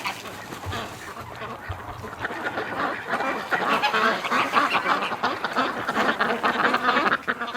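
A flock of ducks calls from an icy winter stream in freezing cold, with dense, overlapping quacks and honks close by that grow steadily louder and busier.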